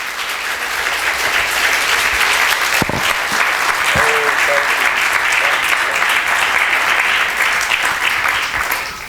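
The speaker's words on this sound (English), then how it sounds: "vibrant clapping and praising God" Steady, loud applause from a church congregation rolls on without a break, with a few faint voices and a sharp knock or two underneath.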